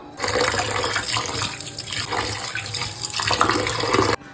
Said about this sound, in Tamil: ஸோ சிக்கனை ஃபர்ஸ்ட் நம்ம வாஷ் பண்ணிக்கலாம்.